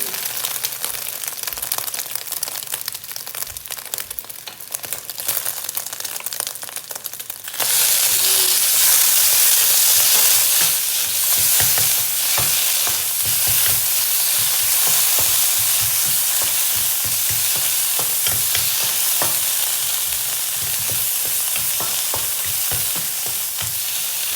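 Eggs fry in a pan for shrimp paste chili fried rice. The sizzle starts quieter, then swells into a loud, steady crackling hiss, with clattering stirs and scrapes throughout.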